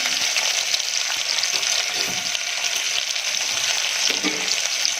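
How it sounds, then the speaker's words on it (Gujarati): Spinach rice pulao fries in hot oil in one pot, a loud, continuous bright sizzle that holds steady for the whole stretch with no voices over it. "અને બરાબર આપણે થોડું તેલમાં ફ્રાય થવા દઈશું."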